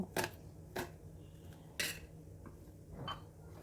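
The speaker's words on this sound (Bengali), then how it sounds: "পেঁয়াজটাকে একইভাবে সরু সরু করে কেটে নেব" An onion is cut into thin slices with a knife on a board. A few sharp, separate taps come at uneven intervals over a faint background hum.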